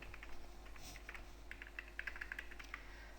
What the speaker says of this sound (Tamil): அந்த யூசர் ஐடியை கரெக்டாக டைப் பண்ணிவிடுங்க